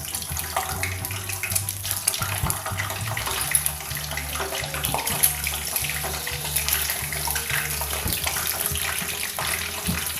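Salted eggs frying in a pan of hot oil, a steady loud sizzle and crackle throughout with no talking.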